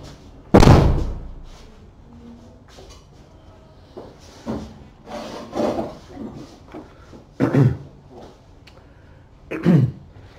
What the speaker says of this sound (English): Let me just close the door 1 minute.